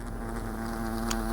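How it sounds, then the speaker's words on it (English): Wasps buzzing in a live-streamed action video game with lightning spells, a steady insect drone that holds loud and continuous for the whole moment, with a brief sharper flicker near the end. "this is a more significant wasp infestation than you might have initially thought"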